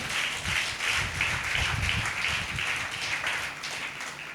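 Audience applause at a Telugu Christian sermon, a steady wash of many hands clapping that swells and holds across the whole stretch, fairly loud and with no talk over it.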